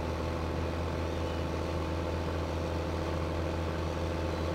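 A tractor engine idles steadily in the video game Farming Simulator 15, a constant low rumble with no talk over it.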